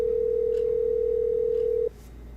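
A steady, loud telephone dial tone drones on a call-back line during a radio broadcast, holding one unbroken pitch before cutting off abruptly and leaving low line hum.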